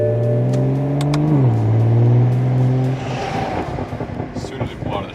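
A Nissan Skyline R34 pulls away from a shop on its first drive, its engine droning steadily and loud, then rising in pitch before settling into rougher, rumbling acceleration as it moves off. A voice speaks briefly over the engine.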